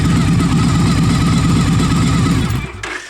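A Victory 92 cubic inch motorcycle engine idles steadily and close by, a loud continuous low throbbing rumble that drops off near the end.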